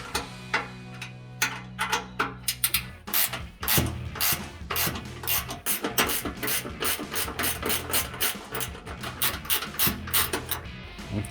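Ratchet wrench loosening 10 mm bolts on a 2019-2023 Ford Ranger exhaust, a close, rapid series of clicking ratchet strokes that repeats steadily with short pauses and no talking.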